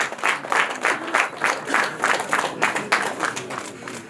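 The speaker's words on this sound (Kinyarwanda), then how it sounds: "Dukomere amashyi menshi cyane umubyeyi." A wedding crowd gives lively applause, many hands clapping in a loud, rhythmic swell that rises and falls steadily throughout.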